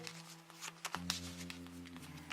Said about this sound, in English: we put them back into the deck here, and we go ahead and give them a shuffle